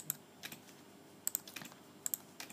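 Computer keys are pressed during 3D modeling work, a quiet series of sharp clicks in small irregular bursts against a faint background, no talking.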